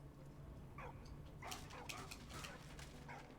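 A dog in Valiant Hearts gives a few faint, short whimpers and yips, soft and close, over a low hum of game ambience.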